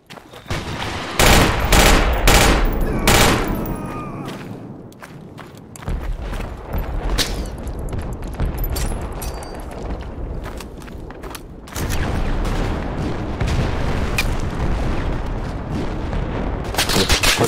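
Rapid bursts of video game gunfire from Project Reality and loud shots ring out repeatedly, some in quick volleys, with scattered booms and footsteps between them.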